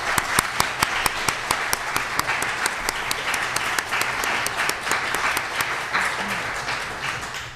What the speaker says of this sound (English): I think we should give a round of applause to our candidates.